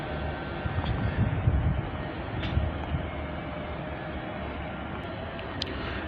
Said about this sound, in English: this train is now departing for Guildford